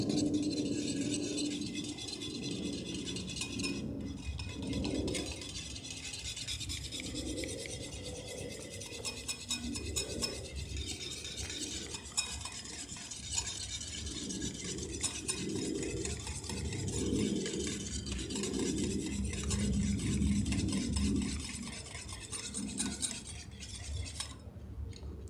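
A whisk scrapes steadily around a bowl as mayonnaise is beaten by hand, making continuous rattling, clinking strokes close by.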